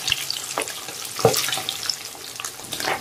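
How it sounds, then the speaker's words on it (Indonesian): Pork ribs frying in shallow hot cooking oil, a steady close crackle and sizzle with a few louder pops, no voices. "kemudian goreng iga dengan minyak goreng secukupnya"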